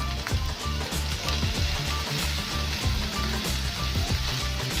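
Capsicum, tomato and onion frying in a pan, a close, continuous crackling sizzle with busy stirring and scraping throughout.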